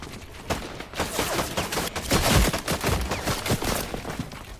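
Rapid gunfire in a video game, dense bursts of shots cracking over one another, loud and continuous with a heavier blast near the middle.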